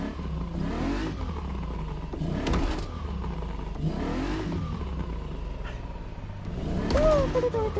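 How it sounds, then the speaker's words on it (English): In a video game, a DeLorean DMC-12 fitted with a rear-mounted Volvo engine revs in repeated surging bursts, climbing and dropping through gear changes. The engine sits close and loud, with a voice talking over parts of it. "You get this lovely engine sound."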